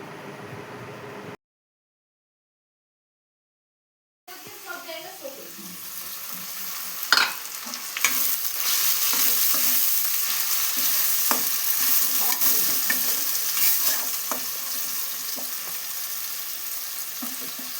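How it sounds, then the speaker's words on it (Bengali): Onions frying in hot oil in a pan, after prawns were fried, with a steady sizzle and repeated scraping stirs; a short silent gap precedes it, then the crackle builds and stays loud and close. "এবার ওই তেলে দিয়ে দিলাম পেঁয়াজ। পেঁয়াজগুলোকে ভালোভাবে ভেজে নেব।"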